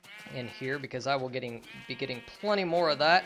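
Sheep bleating from an animal farm in Minecraft, several wavering bleats at moderate volume, mixed with someone talking over them.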